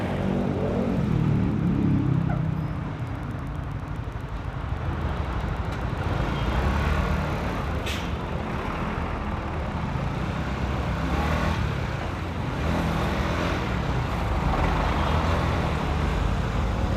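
Jammed road traffic of cars and trucks during a pandemic lockdown, a continuous loud rumble of idling and creeping engines close by, with occasional hisses and a brief sharp sound near the middle, no talk.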